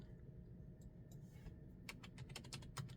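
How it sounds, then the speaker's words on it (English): Typing on a computer keyboard, a few soft taps and then a quick burst of close, light key clicks toward the end over faint background hum, with no talk. "So let's type in queen."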